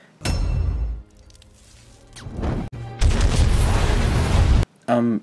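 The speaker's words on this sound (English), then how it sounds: "At his age, there is no way Brian could get away from an explosion like that so quickly." Explosion in the action film Taken 3: a loud broadband boom with a low rumbling tail, then a second sustained roaring blast, mixed with film sound and music.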